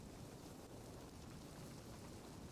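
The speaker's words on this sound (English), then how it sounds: "that's rain. That's rain sounds." Rain falls in a steady, dense hiss with no breaks, a constant ambient wash of rainfall and no talking.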